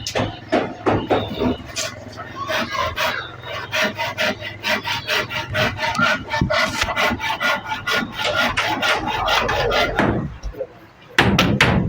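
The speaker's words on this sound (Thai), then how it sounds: "ใช้ละเลื่อย" A hand saw rasps through wood in rapid back-and-forth strokes, loud and close, pausing briefly before a final burst of scraping.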